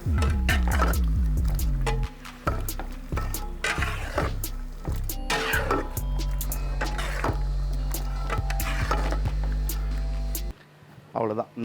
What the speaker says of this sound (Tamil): இப்போ இதை எல்லாத்தையும் சேர்த்து மிக்ஸ் பண்ணுவோம்.